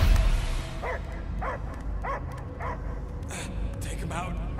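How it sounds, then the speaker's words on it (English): In the Guardians of the Galaxy video game, a dog gives a series of rhythmic, echoing barks and yips over a loud, rumbling game soundscape while voices talk intermittently. "I hear only barking"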